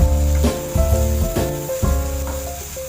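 Potatoes are stirred as they fry in a pan, with a spoon scraping and knocking every half second or so over a steady sizzle. Low background music plays under the cooking sounds.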